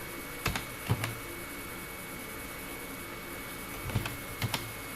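Sparse keystrokes on a computer keyboard while typing in MS Word, heard as two small clusters of quick clicks separated by a quiet pause, close and faint, with no speech.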